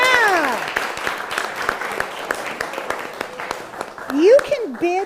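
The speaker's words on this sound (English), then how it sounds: "Can we give them a round of applause?" At a fundraiser event, a crowd breaks into scattered, sharp clapping while voices whoop and cheer over it, the applause thinning toward the end before a final loud shout.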